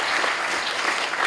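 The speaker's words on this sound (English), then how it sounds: "Applause to you." Applause from a conference audience at AWE 2021 in the Santa Clara Convention Center, a dense, even burst of clapping that fills the short moment.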